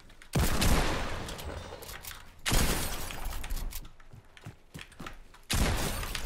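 Minigun fire in Fortnite Battle Royale at Tilted Towers: long continuous rattling bursts of rapid gunfire, loud and close, three separate sustained volleys with quieter scattered shots and clatter between them.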